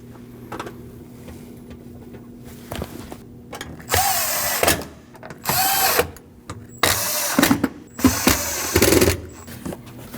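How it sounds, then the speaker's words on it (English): Bursts of a power driver spinning screws into the fuel pump access plate of a 2003-2008 Subaru Forester, several short whirring runs with ratcheting clicks between quieter pauses, close up. "Line up your 4 screw holes and install your screws."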